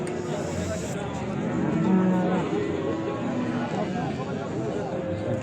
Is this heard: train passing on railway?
no